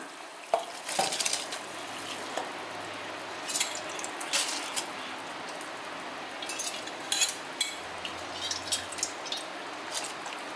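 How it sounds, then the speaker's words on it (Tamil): Rice and lentils pour and patter into a pot of boiling water, with scattered clinks and stirring taps over a soft bubbling hiss. "தண்ணி கொதி வந்துருச்சு இப்போ அரிசியும் பருப்பையும் சேர்த்துக்கலாம்"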